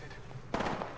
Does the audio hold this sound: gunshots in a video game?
yes